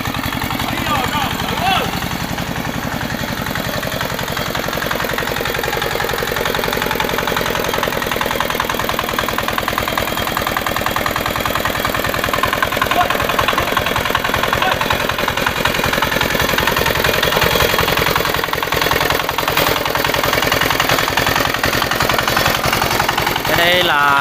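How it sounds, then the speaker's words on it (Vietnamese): A farm tractor with its wheels fitted backwards churns through wet concrete, its engine chugging steadily and loudly throughout with a dense mechanical rattle, close by and continuous. "Chơi bằng máy cày về trộn bê tông."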